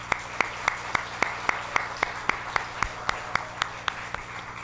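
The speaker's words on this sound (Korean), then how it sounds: "박수로 감사와 존경을 표하십시오" A church congregation at a Sunday service claps in a steady, evenly spaced rhythm, each beat sharp and distinct, over a low continuous hum in the room.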